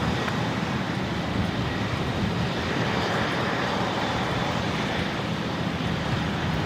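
A Boeing 737-800 takes off from runway 01 right at Brisbane Airport, a steady broad engine roar heard from a distance, dense and unchanging.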